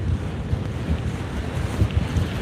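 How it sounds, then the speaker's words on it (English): Strong wind blowing at the summit of the Rochdale Canal, buffeting the microphone with a constant low roar and rumbling gusts, loud and close, with no voices. "Oh, it is windy here."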